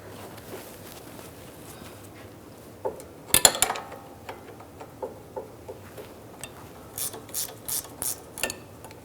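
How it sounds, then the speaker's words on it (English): A 16mm ratcheting wrench loosens the nut on a rear sway bar link of a 2013-2016 Dodge Dart, a cluster of metallic clicks followed by a run of quick, evenly spaced ratchet ticks, close and fairly quiet. "Using a 16mm wrench, take this nut off."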